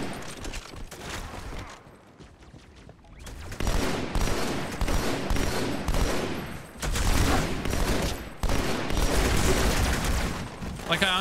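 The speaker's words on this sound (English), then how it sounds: "I don't like burst fire, I should specify. The gun is great and it plays great, and that's why I'm using it." Burst-fire rifle shooting in Halo 2, dense repeated gunfire bursts nearly continuous across the stretch with a brief lull, loud and busy with battle noise; a voice is faintly present.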